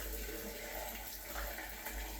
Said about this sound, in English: as you're pouring, you have to make sure that the water is actually pouring down